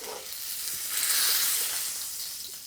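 A thin salmon fillet sears in a hot pan, giving a continuous bright sizzle that swells slightly in the middle and stays close and steady, with no talking over it.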